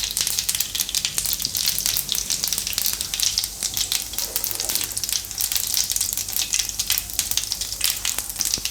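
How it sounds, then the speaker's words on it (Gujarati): Mustard seeds and cumin sizzle in hot oil, for a sev and ridge gourd curry, with a busy, close frying hiss full of sharp crackles and pops running throughout, and no one speaking. "તો તેલ આપણું ગરમ થઈ ગયું છે, એમાં થોડીક રાઈ નાખીશું"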